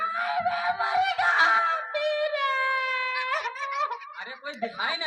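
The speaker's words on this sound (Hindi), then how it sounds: "अरे ये रोने की आवाज कहाँ से आ रही है?" Someone wailing and crying in a loud, drawn-out voice with rising and falling sobbing cries, close and continuous across several seconds.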